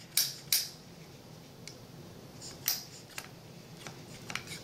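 An Autococker paintball marker being worked by hand, its ram hitting the ram wall in short, muffled, metallic clicks, a few isolated taps spaced apart, quiet and close with no talk.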